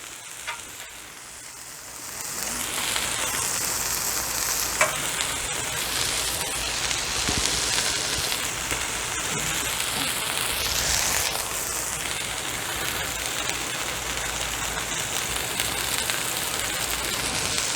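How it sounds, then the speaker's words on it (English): Barbecue hamburger sizzling in its grease on a Blackstone griddle while being stirred, a loud, steady frying hiss that rises after a quieter first two seconds, with occasional spatula scrapes. "Get this barbecue a good stir here. Getting all that hamburger grease."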